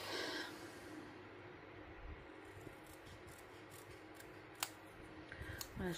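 Scissors snip through paper in a quiet indoor crafting setting, giving faint, sporadic clicks and short cutting sounds over a soft background.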